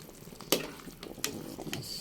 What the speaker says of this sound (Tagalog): Guys, kumukulo na po siya.